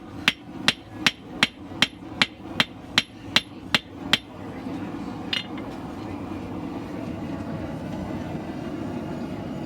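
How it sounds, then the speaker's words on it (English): Blacksmith hammering a bevel into hot metal at the forge: about eleven sharp, evenly spaced ringing hammer blows, close and loud, then a lone strike over a low steady roar of the forge. "I want to try and forge in a bit of a bevel"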